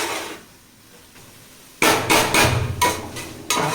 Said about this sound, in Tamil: இந்த பையன் பாருங்க, அடுப்பை தட்டி இப்போ அடுப்பில் இருந்து சவுண்டு வர வச்சிட்டான்